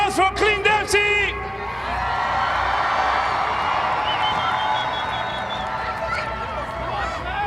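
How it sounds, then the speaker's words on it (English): A crowd applauds and cheers for Clint Dempsey at a charity soccer event in Houston, a sustained wash of clapping and whoops that follows a brief burst of loud talk. "Big round of applause for Clint Dempsey"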